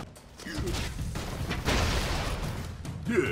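Dense, rumbling bursts and booms from the video game Broforce, a continuous loud wash of explosive noise with a heavier blast midway and a voice briefly audible underneath.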